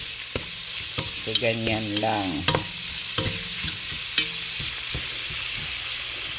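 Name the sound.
stirring food frying in a non-stick pot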